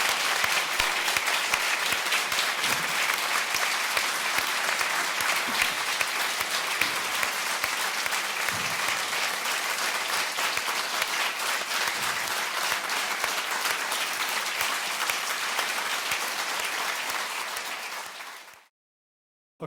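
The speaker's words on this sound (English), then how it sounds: "please join me in a massive round of applause for everything they do" A fundraiser audience gives sustained, loud applause with steady dense clapping for almost twenty seconds before it cuts off abruptly.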